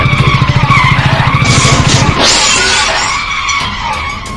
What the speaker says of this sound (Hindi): बाइक की ब्रेक अपने आप लग गई।